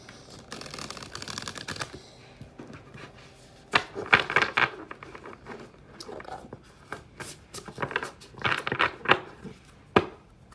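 Oracle cards are shuffled by hand at close range, a quick flurry of riffling followed by irregular bursts of crisp slapping and flicking clicks with brief pauses between, no voices.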